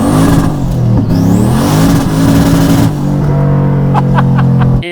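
A 650 whp sleeper car with a very loud exhaust revs hard up close, its engine note rising and falling through several blips before settling into a rough, booming idle with crackles, cutting off abruptly at the end.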